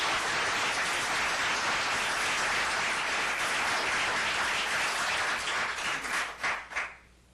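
Sustained audience clapping at a city council meeting, loud and dense for several seconds before thinning into a few scattered claps and fading out.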